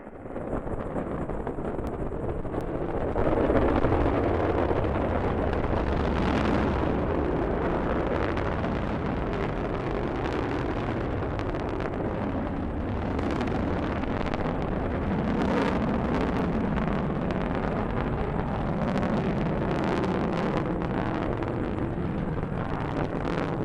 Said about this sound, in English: Liftoff of the Delta rocket carrying GLAST, a gamma ray telescope searching for unseen physics in the stars of the galaxies.